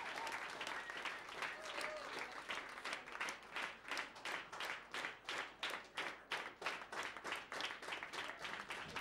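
An audience at a 2007 live concert claps steadily in unison, with a voice calling out over the start before the crowd settles into an even, rhythmic beat.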